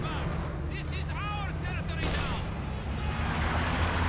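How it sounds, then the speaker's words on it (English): Tank cannon fire from an IS-2 in the strategy game Company of Heroes 2: booming artillery-like shots and battle noise run throughout, with a voice commentating over them. "Just relying on the cannon."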